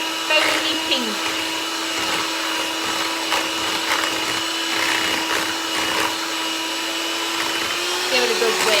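Electric hand mixer whirring steadily while whipping raspberry mousse, a loud, continuous motor drone close by for the whole stretch, with faint clatter and a brief voice in the background.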